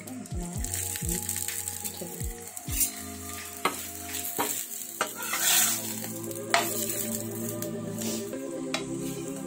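A thick aloo paratha fries in ghee on low heat, with a steady close sizzle, scattered scrapes and taps of a spatula on the pan, and a few brief metallic rings early on, with no voices.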